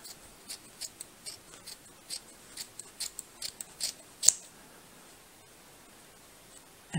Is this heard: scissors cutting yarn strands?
yes